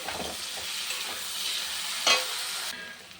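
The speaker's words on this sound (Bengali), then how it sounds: "সবজিটা ভাজা হয়ে গেছে" Vegetables (new potatoes, eggplant, tomato) sizzle and hiss steadily in a hot pan, with a soft stirring scrape partway through.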